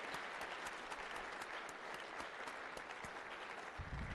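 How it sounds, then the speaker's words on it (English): Audience applause at a senior awards assembly, a dense, steady wash of many hands clapping for the whole stretch, moderately distant and unbroken. "please give her a round of applause for all of her efforts this year"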